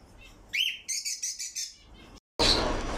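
Pet-shop cockatiels and canaries chirp in a quick, bright series of close tweets and calls, followed after a short gap by a loud, dense burst of overlapping bird chatter.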